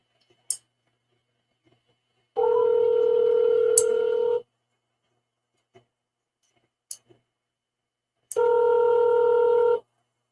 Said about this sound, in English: Let me just dial it.